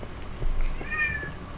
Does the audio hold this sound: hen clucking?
no